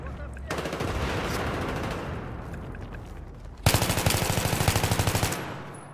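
Automatic weapon fire in the Battlefield 3 video game, two long sustained bursts of rapid gunshots, the second louder and sharper after a brief gap, with no talk over it.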